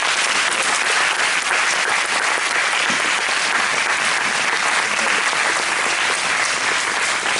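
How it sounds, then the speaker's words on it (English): An audience claps for a returning Brazil mission team, a loud, dense, unbroken wash of applause that holds evenly throughout. "Let's give them a round of applause."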